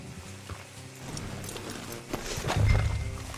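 Horses in the video game Red Dead Redemption 2, with hoof clops, snorts and shifting movement close by over a low outdoor ambience, ending in a louder burst of movement.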